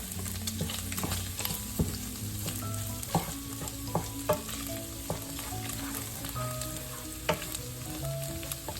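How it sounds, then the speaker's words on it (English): Garlic and onions sauté in a hot pan for pork blood stew, with a steady sizzle broken by sharp, repeated clicks and scrapes of a stirring utensil, close up and free of speech. "So we're incorporating the garlic, the onions. We're gonna saute them as well with the tomatoes."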